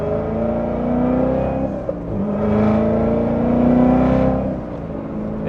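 A C7 Corvette Z06 accelerates in tour mode, its supercharger whining in a steady rising tone over a loud, close engine drone that swells and eases across the pull, with no talk.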